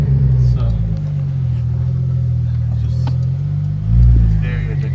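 A modified Porsche 911 engine with a turbo whistle, rumbling steadily up close at a low idle before a brief rise in revs near the end.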